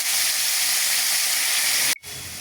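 Potatoes fry in a hot pan with a loud, steady hiss and sizzle. The sound cuts out abruptly near the end, then returns more quietly.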